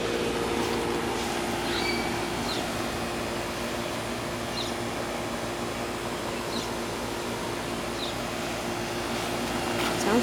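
A 1990 4-ton Tempstar air conditioner runs with a steady, even hum and whoosh of fan and compressor, constant and moderately loud, with faint distant chirps in the background.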